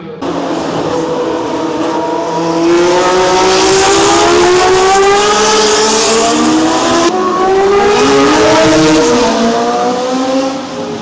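Loud, high-pitched 1973–1976 Formula 1 cars whine past at the Monaco Historic Grand Prix, rising and falling in pitch as several accelerate through, with a steady roar throughout.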